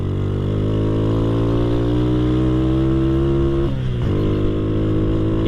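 A Honda Astrea Grand motorcycle fitted with a Jupiter carburetor hums steadily while riding in second gear, its engine note rising gradually, then briefly dipping as the throttle eases before climbing again, continuous and close.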